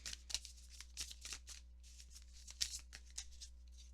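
Cards shuffled to draw a spiritual message card, soft papery riffles and flicks in irregular bursts, close but faint over a low steady hum, with no talking.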